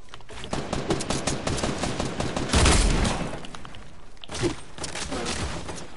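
Rapid automatic gunfire in a shooting video game rattles in fast bursts, with a heavier thump midway and another burst later, and no speech.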